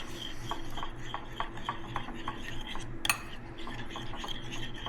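Half and half is stirred into a yogurt mixture, a soft, close series of rhythmic spoon scrapes and light clinks against a container, with one sharper knock midway.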